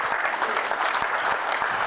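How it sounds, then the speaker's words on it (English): A lecture audience bursts into continuous applause honoring Black women, dense clapping sustained evenly throughout, fairly loud and close with no speech over it. "Give the sisters a round of applause."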